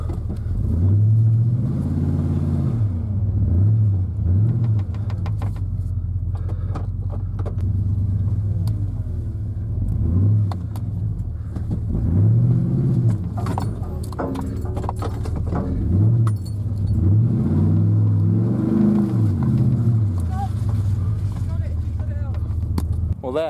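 A truck engine labors up the steep Grey Creek mountain pass, revving up and falling back in repeated surges. A close, rumbling drone carries throughout.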